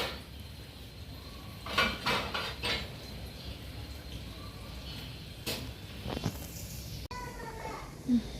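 Pots and utensils being put away in a home kitchen clatter and clink in scattered bursts, some sharp metallic knocks standing out, with children's voices and talk around them.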